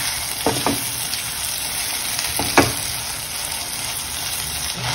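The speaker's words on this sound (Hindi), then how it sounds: "अब हम इसमें टमाटर डालेंगे, और इन सारी सामग्री को 2 से 3 मिनट के लिए हमें अच्छे से पकाना है" Onions and tomatoes fry in a pan for dal khichdi, sizzling steadily up close while a utensil stirs with a few brief scraping knocks.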